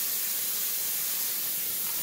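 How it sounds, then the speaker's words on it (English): Running tap water pours steadily as hands are washed at a kitchen sink, a soft continuous hiss in the background with no talk. "We're washing hands in the background."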